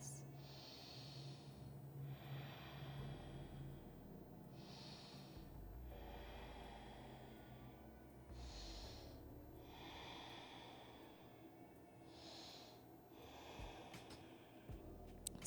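Slow, deep breaths during a yoga session come through close and soft, with about five long, evenly paced inhale-exhale cycles over a faint low hum.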